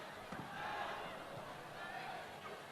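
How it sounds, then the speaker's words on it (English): A crowd cheers steadily in a women's volleyball arena during a 1994 World Grand Prix final round match between China and Japan, a broad continuous roar heard at a distance. "The crowd loves it."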